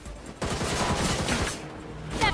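Enemy gunfire in the video game Gotham Knights, a dense burst of rapid shots rattling continuously for about two seconds, loud and close with a brief sharper crack near the end.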